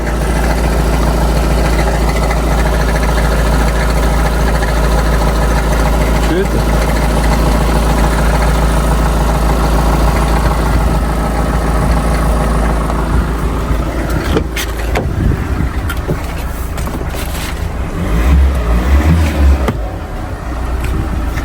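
A used van's engine running at idle, a loud steady low rumble with a constant mechanical drone; a few brief knocks and a slight revving swell near the end, with no talk.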